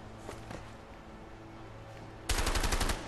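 A loud burst of rapid automatic gunfire in the video game A Way Out erupts near the end, after a quieter stretch of faint ambient noise and scattered soft shots.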